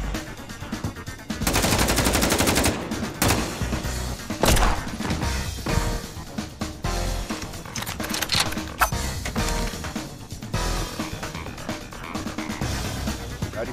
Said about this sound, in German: Ja, die Feuerlöscher kann man auch beschießen, die explodierenden.